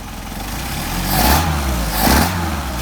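Engine with a pair of Solex 44PHH carburetors running warm at a steady idle, rising in two brief revs and settling back between them, close and fairly loud throughout.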